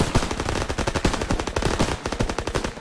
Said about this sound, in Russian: Пулемет, открыть огонь!